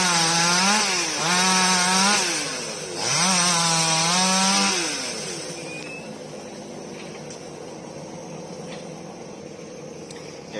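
Chainsaw cutting a huge old fig tree being turned into an ornamental tree revs hard three times with wavering pitch, then drops away to a quieter, fading outdoor background.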